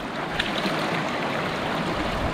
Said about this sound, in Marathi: पाण्याचा फ्लो वाढत चाललाय